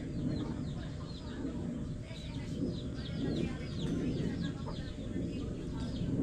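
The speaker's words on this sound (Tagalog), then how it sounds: "Uli din yung manok labuyo dito" Red junglefowl cluck and call repeatedly against a busy outdoor background, moderately near, with a few sharper crowing-like calls mixed in.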